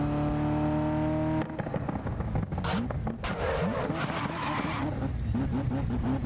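A racing car in GRID (2019) roars through corners with a steady engine drone, then tyres squeal and chirp repeatedly as it skids, loud and continuous, with a voice speaking now and then over it.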